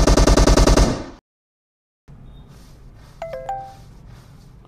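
Rapid automatic gunfire from PUBG, a loud close burst of dense repeated shots that stops dead, followed after a silence by quieter game ambience with a few ringing metallic pings.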